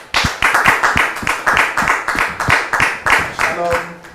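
An audience claps for a guest at a French-language talk show, a run of strong evenly spaced claps with a voice rising under the last part.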